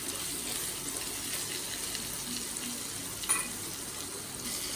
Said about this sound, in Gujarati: અને ભરેલા પરવળ એડ કરી દઈશું। પ્રોપર આને સાંતળી લઈએ।